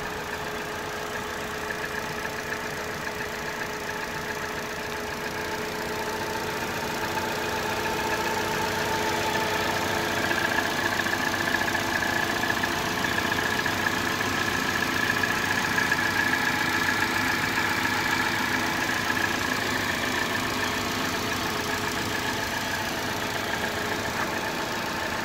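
A Fiat Tipo II five-door's engine idles steadily throughout, a continuous low hum with a faint tonal whine above it, no talking.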